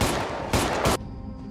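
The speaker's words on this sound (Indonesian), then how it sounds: "dia juga yang ternyata melepaskan tembakan ke arah si Alex" Three rapid, loud gunshot blasts in quick succession in a film, each with a harsh booming crack, followed by a fading echo.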